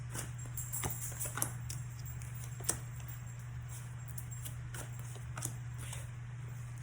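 Tarot cards are pulled and slid from a deck in soft, quick papery flicks and taps, with a few sharper snaps, close and quiet over a steady low hum.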